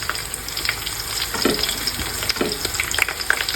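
Onions and curry leaves frying in a pan for Guntur chicken dum biryani, a busy crackling sizzle with scattered stirring knocks, close and continuous.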